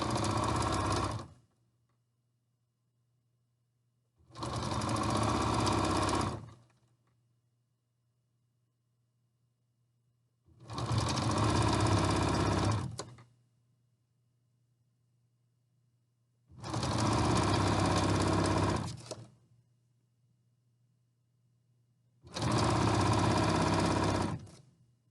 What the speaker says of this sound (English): So you're just going to sew straight down, sew this tube closed, keeping that cord and that fold away from your needle.